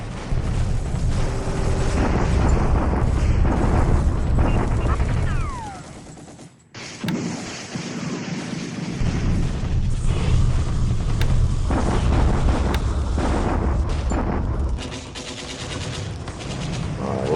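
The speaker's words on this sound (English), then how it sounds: "Another Allied bombardment." Heavy, continuous bombardment from War in the Pacific Admiral Edition: loud rolling barrages of gunfire and explosions, broken by a brief lull mid-way, then resuming at full strength.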